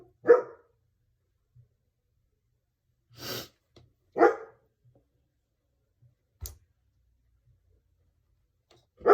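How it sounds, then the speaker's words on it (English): Puppy dogs yapping in a series of short, sharp barks spaced a second or more apart, fairly close and distinct against an otherwise quiet room. "Puppy dogs."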